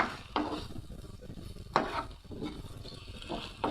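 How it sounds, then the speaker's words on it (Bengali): Amul cream is stirred in a cooking pan over heat, a soft sizzle under repeated scraping strokes of a spoon against the pan, three or four distinct scrapes at uneven intervals. "আমরা একটু নাড়িয়ে নিচ্ছি"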